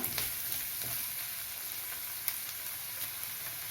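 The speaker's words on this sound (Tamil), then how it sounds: "பெரிய கேரட்டு ஒன்று அதை சேர்த்துக்கிறேன் அதுவும் ஒரு நிமிஷம் வதங்கட்டும்" A large carrot sautés in a pan for sambar rice, giving a steady, close sizzle with occasional light stirring clicks.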